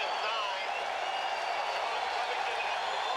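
A large stadium crowd applauds at a 1992 Notre Dame versus Stanford college football game, a dense, steady wash of clapping and cheering that continues throughout with voices mixed in.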